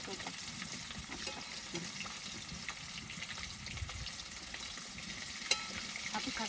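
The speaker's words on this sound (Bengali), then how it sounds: "একটু ভাজো" Cut vegetables fry in a pan at home in a Bangladeshi kitchen, giving a low, continuous sizzle with soft stirring scrapes and one brief sharp clink, and no talk.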